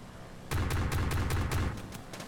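An aircraft gun strafes wrecked plane debris in Kerbal Space Program, firing about eight rapid, evenly spaced shots after a brief quiet lead-in, moderately loud and close, with no talk.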